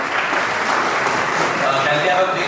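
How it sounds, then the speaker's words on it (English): An audience applauds at a Model UN award ceremony at St Joseph's College, Nainital: dense, sustained clapping from many hands, steady and moderately loud, with voices murmuring underneath. "Can we have a big round of applause for Mrityunjay?"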